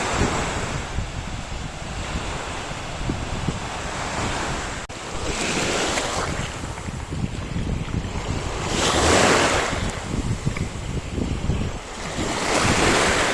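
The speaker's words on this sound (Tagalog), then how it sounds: "Ay, kabog na sa hangin." Strong gusty wind buffets the microphone at Masterson's Beach in Initao while waves surge and crash ashore, loud surf swelling and receding in repeated bursts with no voices.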